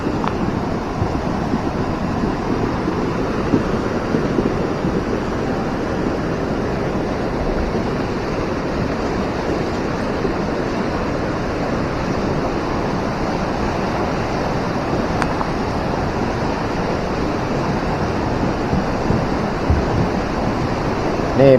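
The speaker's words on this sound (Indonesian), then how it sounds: "di depan rumah, di teras rumah air sangat kencang" Floodwater from a raging river rushes past the front terrace of a house after a night of heavy rain, a loud, continuous roar of turbulent water that stays dense and unbroken throughout, with wind buffeting the microphone.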